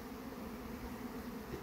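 Honeybees buzzing around a hive being prepared as a queen-rearing colony in the field, a continuous low droning hum that stays even and close throughout.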